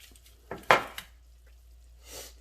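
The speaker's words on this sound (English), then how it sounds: "So make sure you move the pan around a little bit." A frying pan holding olive oil is shifted around on a stovetop. There are a few clanks and scrapes of metal, one sharper knock near the start, and then a faint sizzle-like hiss.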